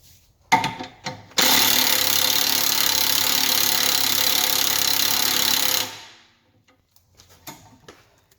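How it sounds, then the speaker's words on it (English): An impact gun spins coarse sandpaper inside a car's rear transverse suspension arm on an Alfa Romeo, giving a loud, continuous grinding whir for several seconds, bracketed by a few short clattering bursts and handling knocks nearby. "just going to put some really coarse sandpaper in there and use my impact to rotate the bolts"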